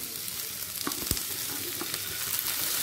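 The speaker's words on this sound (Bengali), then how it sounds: "আগে এই সবজিগুলোকে ভাজতে ভাজতে সেদ্ধ করে নেব" Potato, carrot and bean pieces fry in a pan with a steady close sizzle, broken by a few light clinks and scrapes of a spoon stirring, and no voices.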